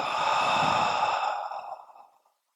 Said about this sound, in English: Open the mouth, let the breath fall out.